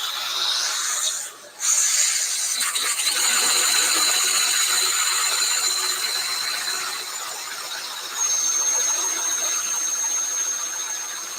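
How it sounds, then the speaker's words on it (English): A handsaw with its skip teeth ground off cuts slowly through a metal MH51B fuel tank, giving a steady, close, high-pitched rasping squeal that runs almost continuously with one brief pause. "I did grind off the skip teeth to have a better presentation, but it makes it much slower to cut"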